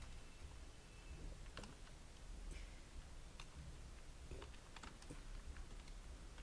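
Quiet, close computer keyboard typing while PHP code is entered, with irregular light key clicks scattered throughout and no voice.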